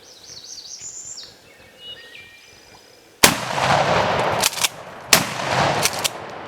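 Birds chirp faintly at first, then two or three sharp, loud gunshots crack out in quick succession with echoing tails during an outdoor hunt.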